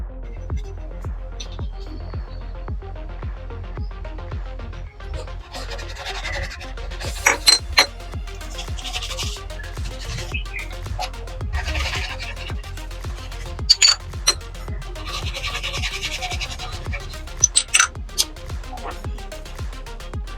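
Brake master cylinder parts are scrubbed by hand during a wash, giving a steady rasping brush-on-metal rubbing with a few sharp clinks, fairly close and moderately loud.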